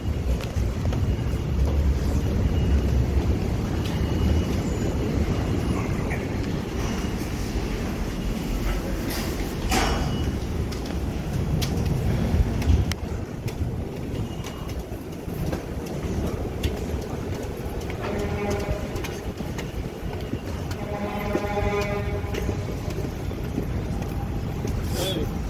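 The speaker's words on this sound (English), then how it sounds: "I've taken the train I needed, which is the PATH train" PATH train running between Hoboken and Manhattan, a continuous loud rumble with wind buffeting the microphone, a high rail squeal rising toward the end, and faint voices mixed in.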